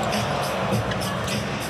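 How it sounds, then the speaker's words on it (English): Arena crowd at an NBA regular-season game between the 76ers and an opposing team, a dense, steady roar of murmuring and swelling ooh-like reactions filling the whole stretch without clear breaks. "Crowd ooing and aahing."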